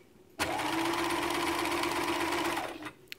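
A Bernina Bernette 740e sewing machine runs a zigzag stitch in one steady, close burst of motor whir and needle clatter lasting a couple of seconds, then stops.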